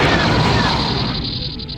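A heavy blast of laser gunfire hits the player's ship in the space-combat game X-Wing Alliance: one loud, dense burst that slowly fades over about two seconds.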